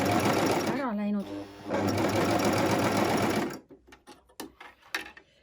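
A Brother coverstitch machine sews a seam in a fast, loud mechanical whir that pauses briefly, resumes, then stops, leaving quieter handling clicks afterward.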